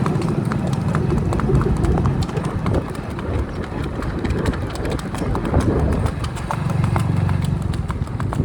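A mare's hooves clip-clop along steadily during gait training, over a busy outdoor background with a low rumbling hum and occasional voices.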